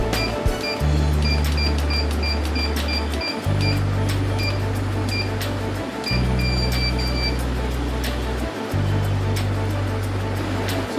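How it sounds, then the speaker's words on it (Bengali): A polymer stamp seal exposure machine runs through a five-minute exposure, giving a loud, steady low hum broken into long even blocks by brief gaps. Short high beeps sound intermittently over it. "এখন আমরা আমাদের মেশিনে অনলি পাঁচ মিনিট এক্সপোজ করে দেবো"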